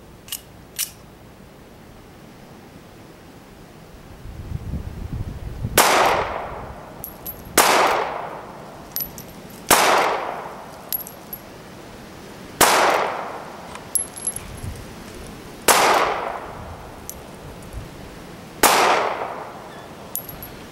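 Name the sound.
Ruger LCP .380 pistol shots hitting target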